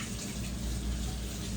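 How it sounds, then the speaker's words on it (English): Water runs steadily from a kitchen tap during handwashing, a continuous broadband rush at close range with no talk over it. "now I'm going to wash my hand before we get all into everything"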